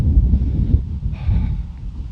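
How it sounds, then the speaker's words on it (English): Low, buffeting wind rumbles steadily against the microphone, heavy and continuous with a brief fainter hiss in the middle. "a very windy one this morning"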